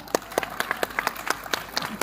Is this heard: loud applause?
yes